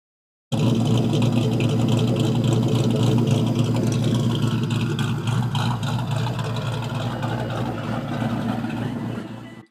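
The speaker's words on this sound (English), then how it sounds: "this is what the Bullitt sounded like right before the race." A 2001 Ford Mustang Bullitt with a built bottom end and drag radials rumbles steadily before a race, a loud, close, continuous engine note lasting several seconds with no talking.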